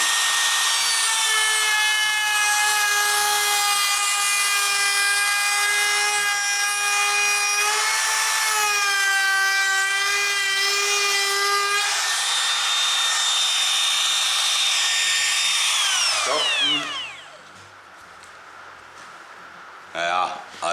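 A Makita DRT50 trim router cutting deep into wood, a loud sustained high whine with strong harmonics that dips in pitch under load, then spins down and stops near the end.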